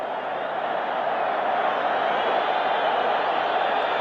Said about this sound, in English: Listen at the crowd.